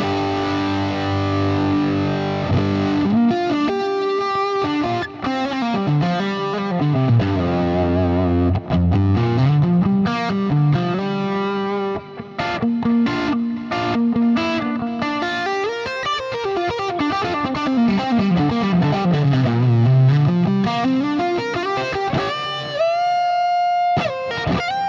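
An electric guitar plays through a Plexi amp preset on a Fractal FM3, FM9 or Axe-Fx unit with a Cab 61 cabinet, giving a loud, crunchy, distorted tone with sliding riffs and sustained chords, and no voices.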